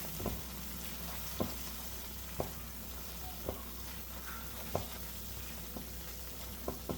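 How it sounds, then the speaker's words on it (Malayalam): Egg curry masala frying in oil is stirred in a pan, a faint constant sizzle broken by soft spoon scrapes and taps about once a second. "കണ്ടോ മസാല ഒന്ന് റെഡി ആയിട്ട് വന്നിട്ട് എണ്ണയൊക്കെ ഒന്ന് തെളിഞ്ഞു വന്നിട്ടുണ്ട് അത് മതി എല്ലാം കൂടെ ഒന്ന് ഇളക്കി കൊടുക്കാം"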